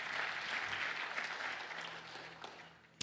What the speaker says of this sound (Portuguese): Você pode aplaudir isso bem forte?